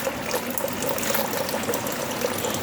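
Spring water from a mountain pours steadily without pause, a constant gushing and trickling wash with no breaks.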